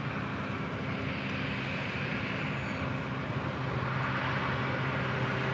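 A Southwest Airlines 737-700 arriving at LAX from Albuquerque, heard as a steady, broad jet roar that holds at an even level throughout, with no voices.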